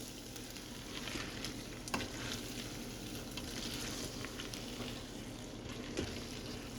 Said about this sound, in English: I need to still keep stirring this